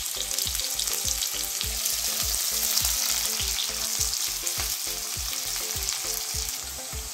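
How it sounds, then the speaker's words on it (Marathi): Sliced onions frying in oil for a Maharashtrian capsicum bhaji, a steady close sizzle with regular rhythmic scraping strokes of a spatula throughout, no voices. "आता कांदे जे आहेत थोडेसे लालसर आपल्याला परतून"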